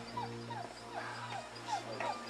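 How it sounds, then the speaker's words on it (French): A house dog tied up outside whimpers and yips repeatedly in short, high, plaintive cries, fairly close and moderately loud, with no talking. "le chien de la maison qui est attaché là nous appelait quand même, il voulait des caresses"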